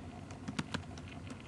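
Quick taps on a computer keyboard while a shell command is typed, a short irregular burst of clicks close to the microphone with no talking.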